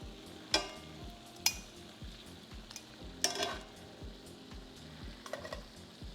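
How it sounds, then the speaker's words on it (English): Shrimp in piri piri sauce sizzles steadily in a pan, with a spoon or utensil stirring and scraping against the metal in occasional sharp clinks over the constant frying hiss. "sounds good in here now with that sizzle"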